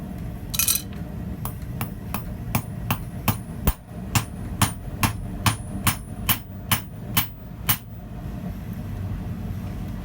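Metal rivet hammered on a small anvil in a workshop, a steady run of about fifteen sharp ringing hammer blows at an even rhythm, close and loud over a low background hum.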